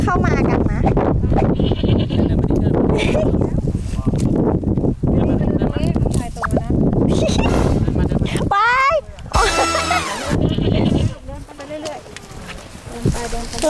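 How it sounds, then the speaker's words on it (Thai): Goats bleat repeatedly at a petting farm in Lopburi province, Thailand, their wavering calls rising over near-constant talking, with a few louder bleats standing out toward the end. "ถ้าเกิดว่าใครอยากจะมาให้อาหารน้องแพะนะคะ"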